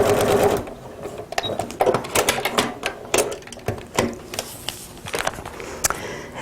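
Sewing machine stitching fabric rectangles onto a paper-pieced quilt block, a close run of rapid mechanical needle clatter in short bursts, with pauses and fabric handling between them.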